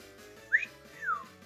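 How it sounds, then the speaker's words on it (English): Two short rising-then-falling whistles from soldiers in the Final Fantasy VI video game, sounded one after the other, clear and fairly close with no talk. "they're whistling at the dancing girls"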